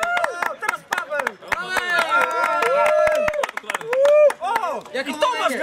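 At a youth football tournament, scattered claps from a small crowd ring out near and irregular while people talk and call out over them, with a whistle-like tone cutting through briefly.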